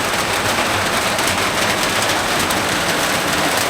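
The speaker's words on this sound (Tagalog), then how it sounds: "sobrang lakas ng ulan" Heavy rain pours down outdoors at a riverside raft site in the morning, a loud, dense and continuous roar of drops with no talking.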